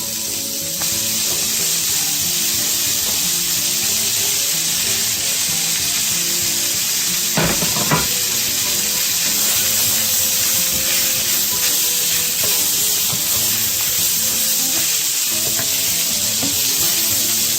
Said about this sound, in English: we're just going to cook the chorizo